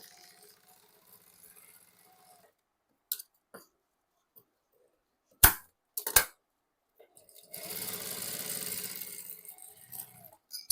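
A sewing machine stitching a fabric lunch bag with a zip gives a few sparse clicks and knocks, then a steady whirring run of about three seconds near the end, in a quiet room.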